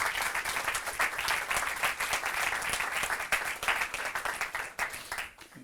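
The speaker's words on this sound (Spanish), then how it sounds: "no se quejará de los aplausos" Audience applause during a televised panel discussion on regional financing and public services, a lively continuous patter of many hands that stays full before thinning out near the close.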